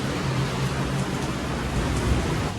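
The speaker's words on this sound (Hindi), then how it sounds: "Still raining." Light rain falls steadily, a soft continuous hiss of even loudness with no speech, like drizzle on surrounding surfaces outdoors.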